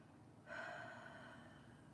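A slow, audible exhale after a deep breath, a soft breathy rush starting about halfway through and fading gradually, close and quiet with no talking.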